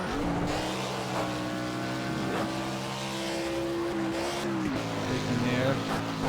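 A race car engine screams through the gears at Watkins Glen in Project CARS, loud and steady with rising and falling revs as the car brakes and accelerates. Someone talks over the engine noise.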